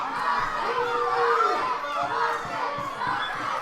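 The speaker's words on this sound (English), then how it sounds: "Crowd here in Oakdale getting behind their hometown hero." Crowd in Oakdale cheering on a hometown wrestler during a heavyweight title match, a steady, loud roar of shouts and excited voices sustained throughout without a break.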